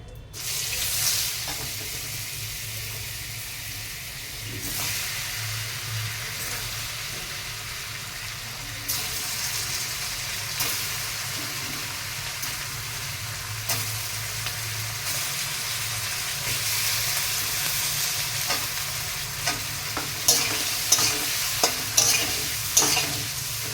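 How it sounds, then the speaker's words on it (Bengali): Paneer fries in butter in a pan, a steady sizzle with repeated scraping and stirring strokes over about twenty seconds, and a few sharper clinks of the utensil toward the end. "এখন আর একটু বাটার দিব পনিরটা ভাজার জন্য"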